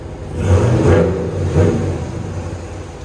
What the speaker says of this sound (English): if you go outside here and just listen to the motor real quick, or the exhaust